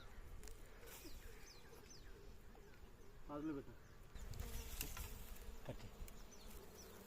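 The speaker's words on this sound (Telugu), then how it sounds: "ఈగలు ఉన్నాయి ఇక్కడ" Honey bees buzz around a wild hive outdoors, a faint steady hum with individual insects passing close. Distant bird calls are heard now and then.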